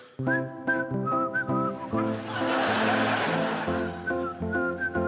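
A bright whistled melody over a plucked, twinkly bell backing in the style of TV and radio advert music, cheerful and bouncy, with a brief swell of noisier texture in the middle.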